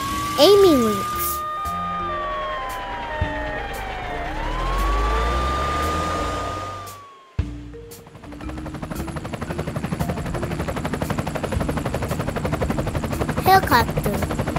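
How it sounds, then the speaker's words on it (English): Helicopter with a continuous pulsing rotor drone that builds to a steady close roar, following a short cartoonish whistling tone at the start. "Helicopter."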